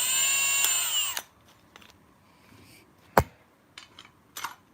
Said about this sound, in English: He's chucking his drill onto the shaft.